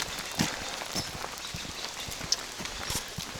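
Steady rain patters on a wet trail during a spring hike at Rancho San Antonio Preserve in March, a broad even hiss with scattered sharper drops and light splashes throughout, with no voices.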